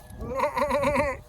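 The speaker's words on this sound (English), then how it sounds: "The goats are saying hello." Goats bleating up close on an outdoor farm visit, one sustained wavering bleat with a quivering vibrato lasting about a second.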